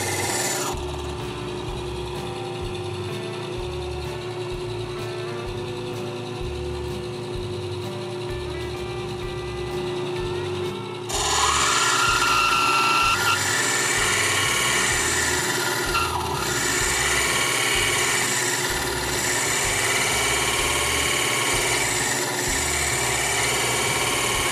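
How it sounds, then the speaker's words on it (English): A faceting machine grinds a gemstone on a 260 grit lap, giving a continuous close abrasive whir over a rhythmic low thumping that grows louder and brighter partway through. "I'm using the 260 grit lap."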